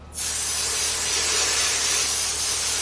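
Water sprays from a spray bottle onto art paper in one sustained, close, hissing burst that starts abruptly and holds steady, with no talking.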